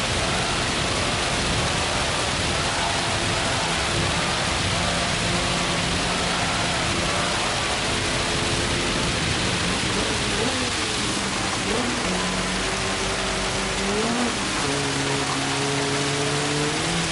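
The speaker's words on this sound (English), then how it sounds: "actually, I love the sound of rain, but it's way too loud" Heavy, constant rain hiss in a Gran Turismo race at Suzuka with dynamic weather, loud and dense throughout, with a car engine droning and shifting pitch underneath.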